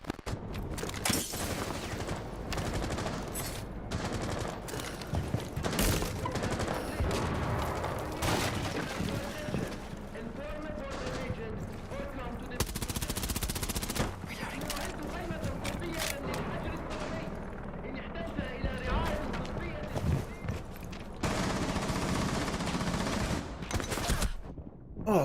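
Gunshots in a video game, fired at a camera, come as repeated loud volleys and scattered single cracks over about 25 seconds, with a voice talking between and under the shots.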